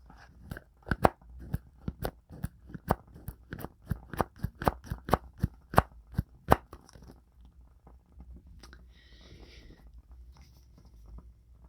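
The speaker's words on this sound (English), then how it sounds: "monthly ASMR tarot forecast my Tarot Muka deck because I love Art Nouveau." A Tarot Muka deck with Art Nouveau art being handled in a quiet ASMR setting: a quick run of crisp, regular card snaps and riffles up close, then soft faint rustling.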